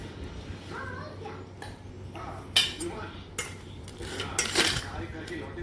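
Corn bhel being mixed in a bowl: a spoon clinks and scrapes irregularly against the bowl, with several sharper knocks toward the end and faint voices in the background.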